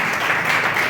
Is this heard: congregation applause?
yes